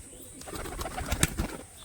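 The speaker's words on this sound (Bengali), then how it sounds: "আর এগুলো হচ্ছে বাড়ির পায়রা" Domestic pigeons coo softly nearby, a few low throaty calls over a quiet background murmur.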